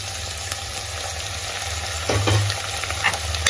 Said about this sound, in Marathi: आता टोमॅटो थोडा मऊ होईपर्यंत आपल्याला हे असं परतून घ्यायचं व्यवस्थित